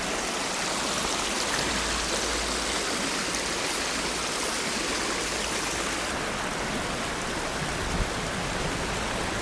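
River water rushing and racing beneath a bridge, a loud steady broadband roar of flowing current that fills the whole stretch without pause.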